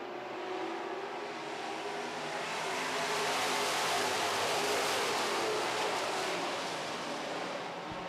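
Super trucks racing on an oval track, a steady broadband engine roar that swells slightly toward the middle and holds loud throughout, with no talk over it.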